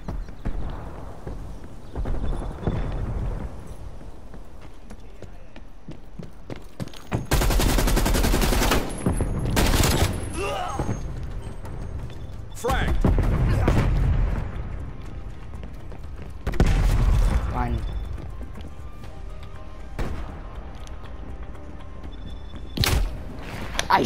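Bursts of video game gunfire, several loud broadband volleys spread across the clip with quieter gaps between them, over a steady background of game ambience and rhythmic clatter.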